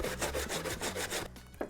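Potatoes are shredded by hand on a grater, making close, rhythmic rasping strokes in quick succession, about seven scrapes before a short pause and a final stroke.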